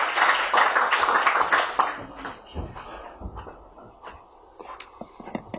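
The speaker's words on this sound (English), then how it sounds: "round of applause." Applause from an audience at a university faculty talk on corruption in Nigeria, loud and dense at first, then thinning into scattered claps and shuffling after about two seconds.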